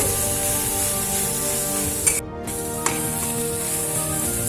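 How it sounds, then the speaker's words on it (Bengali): Data shak greens stir-fried in a pan hiss and sizzle steadily at close range, broken by a brief dip in the middle and a couple of sharp clicks from stirring. "শাকটা এভাবে নেড়ে নেড়ে আর একটু ভাজা ভাজা করব।"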